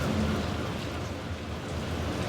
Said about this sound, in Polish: Pada, rozpadało się na dobre.